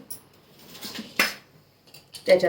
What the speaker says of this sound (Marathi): गॅसवर कढई ठेवली